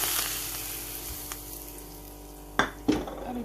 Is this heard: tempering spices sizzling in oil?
yes